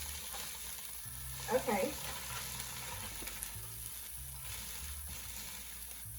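Frozen peas and carrots sizzle quietly in a pan, a soft steady frying hiss with a brief stir-like clatter; a person says a single word under it.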